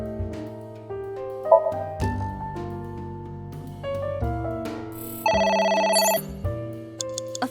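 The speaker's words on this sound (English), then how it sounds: "A phone. Should I pick it up?" A telephone rings in the video game AI: The Somnium Files, a synthesized ringtone of stepped electronic tones repeating in bursts over game music, clear and loud with no talking.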